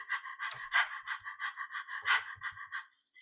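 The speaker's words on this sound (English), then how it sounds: "Breathing in through the nose and out through the mouth." Rhythmic guided breathing, drawn in through the nose and pushed out through the mouth, repeating as a steady series of close, audible breaths and soft exhales with no talking.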